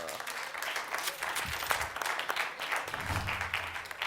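Studio audience applause at a Georgian comedy game show, a dense steady patter of many hands clapping throughout, fairly close, with a few brief voices mixed in.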